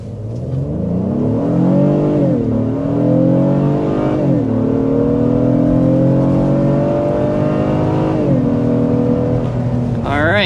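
A 2026 Honda Passport SUV's loud engine roars under hard acceleration past 60 mph, its pitch climbing steadily and dropping briefly at each gear shift before rising again.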